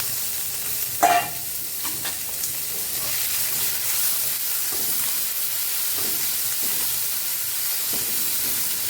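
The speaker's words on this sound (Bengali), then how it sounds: "একসাথে সব দিয়ে চিংড়ি মাছটা আমি তেলের সাথে ভেজে নেব।" Prawns fry in oil for a Bengali lau chingri, giving a loud, steady sizzling hiss close by, with a sharp clatter near the start and faint stirring afterward.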